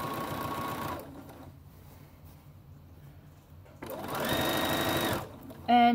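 Sewing machine stitching a seam on a pair of shorts, a close mechanical whir in two bursts separated by a quieter pause, ending with a brief tone.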